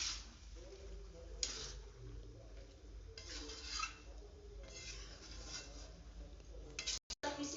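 Boiled chickpeas, peas and potatoes are stirred in a kadai for ghugni, making faint intermittent scraping and clinking bursts at a low, quiet level.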